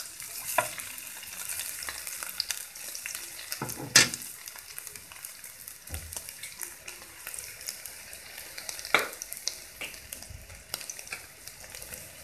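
Garlic fries in a pan as vinegar is added, a soft continuous sizzle punctuated by a few sharp clinks and stirring scrapes, fairly quiet with no voices.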